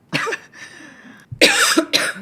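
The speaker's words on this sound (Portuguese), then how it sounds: "Aliás, a tosse significa polifenóis." Coughing after tasting olive oil: several harsh, close coughs in short bursts separated by a brief raspy pause, loud and without talk.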